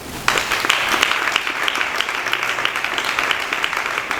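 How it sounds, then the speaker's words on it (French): Audience applause at a press conference wrapping up a 21-day seminar, beginning abruptly after a brief lull and holding as an even, full patter of many hands. "veuillez s'il vous plaît vous applaudir"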